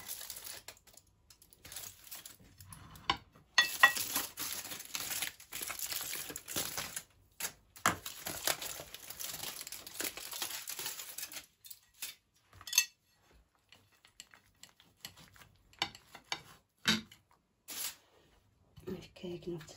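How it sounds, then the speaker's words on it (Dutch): A knife cuts a homemade chicken bun in half, giving irregular scraping and crunching strokes with sharp clicks and crinkles, close and intermittent, with bursts and pauses across the stretch while someone talks. "Ik ga nu eentje door midden snijden."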